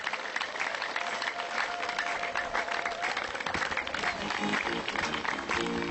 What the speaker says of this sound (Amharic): እስቲ ለእግዚአብሔር ክብር አጨብጭቡ